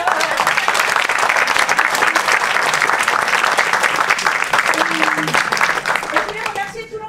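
A concert audience at a choir performance applauds, dense continuous clapping at full strength that begins to thin out toward the end, with a voice briefly heard as it fades.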